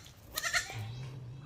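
A baby goat bleats twice in quick succession, close and fairly loud, over a low steady background hum.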